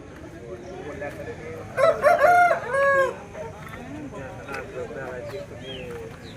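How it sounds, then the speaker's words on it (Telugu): Several roosters tethered at a weekly chicken market crow loudly in overlapping calls, with scattered clucking and farm-animal noise around them and someone talking over the scene. "పుంజులు అయితే చూడండి అక్కడ ఇప్పుడు పుంజు అనేది అయితే కట్టేసి అయితే ఉంచారనమాట"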